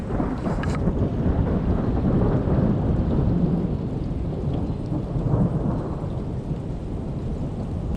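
A violent thunderstorm with steady heavy rain and deep rolling thunder, a dense and constant roar from start to finish with no voices.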